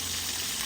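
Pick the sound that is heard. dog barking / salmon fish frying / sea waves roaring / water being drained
salmon fish frying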